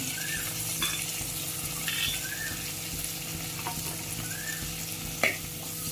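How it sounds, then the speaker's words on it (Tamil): Curry leaves and green chilli frying in hot oil in a pot, a continuous soft sizzle and crackle with occasional light stirring clicks and one sharp tap near the end, close up with no talk. "கருவேப்பிலை கொஞ்சம் பொரியட்டும்"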